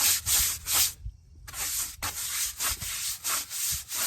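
A brush scrubs years of built-up brake dust off a car wheel rim in quick, rhythmic back-and-forth strokes, close and loud, with one brief pause before the scrubbing resumes.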